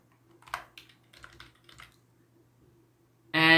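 Fingers type on a computer keyboard in short clusters of light clicking keystrokes, close and soft against a quiet room, before a louder tonal sound cuts in at the end.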